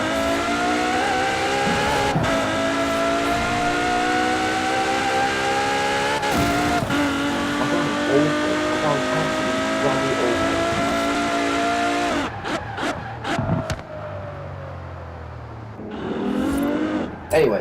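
KTM X-Bow GT4 race car accelerating in Forza Horizon 4, a loud, rising engine roar climbing through gear changes with brief shifts and tire noise, ending in short choppy bursts, a voice talking over it.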